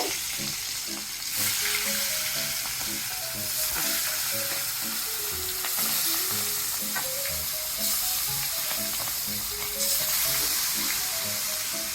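Pangasius fish sizzles and crackles steadily in hot oil, a dense continuous frying hiss close by, with occasional utensil stirring and no talking.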